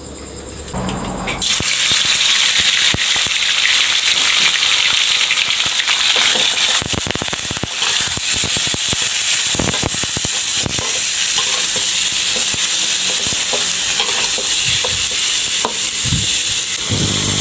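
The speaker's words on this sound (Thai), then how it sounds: "น้ำมันร้อนได้ที่นะครับ เราก็ ผัด หมูก่อนเลยครับ" Pork stir-fried in hot oil in a wok: after a brief quieter start, a loud, continuous, close sizzle and hiss, punctuated by sharp clanks and scrapes of the spatula against the metal.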